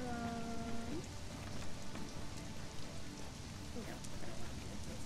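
Steady rain falls in a dark outdoor scene of the game Conan Exiles, a continuous hiss with a faint tonal sweep early on and no talk over it.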